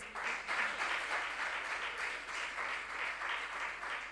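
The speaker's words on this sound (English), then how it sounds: "Protein is correct for a round of applause." Applause at a national junior science and maths quiz championship, a faint, steady patter of clapping from a distant audience lasting a few seconds without any voices.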